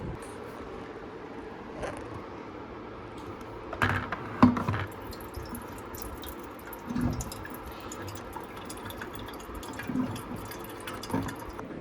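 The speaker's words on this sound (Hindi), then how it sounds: "चलो इसमें से बॉटल भर देती है" Water runs from a tap or dispenser into a bottle indoors on a hot summer day, with a steady trickling wash, a few louder splashes and clunks, and no talking.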